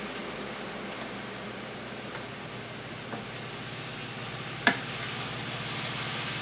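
Noodles and cabbage cook in a pan with a faint, steady sizzle and bubbling hiss, broken by one brief utensil clink near the end.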